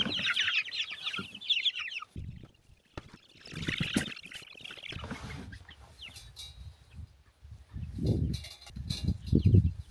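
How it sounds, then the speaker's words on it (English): Chickens in a new coop cluck and murmur in scattered bursts, fairly close, mixed with rustling, bumping and handling noises during an off-grid Alaska homestead chore. "we're gonna put the chickens into their new house"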